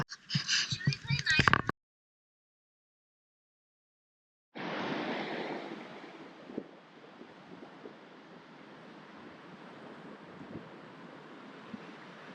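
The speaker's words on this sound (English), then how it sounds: "the sound of the waves crashing on the beach" After a brief burst of sound and a stretch of silence, a steady wash of surf rolls onto Wauraltee Beach, loud at first then settling into a continuous hiss.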